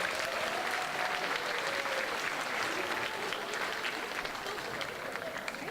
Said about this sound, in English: Let's give them one more huge round of applause